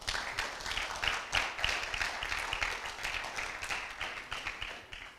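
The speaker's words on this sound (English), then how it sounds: "I first I think we need to give an applause to Daniel and actually to the entire team for organizing all of this." Conference audience applause for the event organizers, a room of hands clapping with uneven pulses for about five seconds, moderately near but fairly quiet overall.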